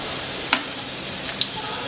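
Garlic and green chilli sizzling in a hot pan for veg noodles, giving a steady frying hiss with a few sharp spatula clicks.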